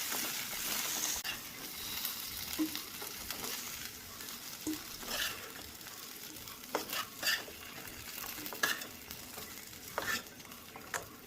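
Cauliflower florets and potato pieces fry in oil in a wok, giving a steady close hiss with scattered stirring scrapes and brief spatula knocks, and no voices.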